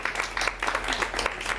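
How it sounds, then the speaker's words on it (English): Audience applause at a press club luncheon on cervical cancer, a brief burst of scattered clapping in a room, moderately loud and fairly even, with no talk over it. "Round of applause for a DG."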